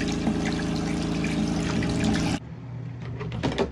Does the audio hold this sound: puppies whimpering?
no